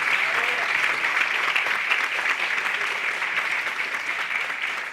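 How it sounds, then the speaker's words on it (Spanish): Audience applause at a talk about an immigrants' mill, steady dense clapping throughout, loud and close, with no speech over it. "fuerte aplauso"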